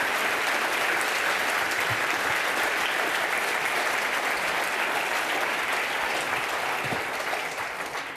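A large audience at a popular-science talk on quantum physics and cosmology applauds the speaker Steini, sustained, dense clapping holding at an even, loud level throughout before tapering very slightly at the end.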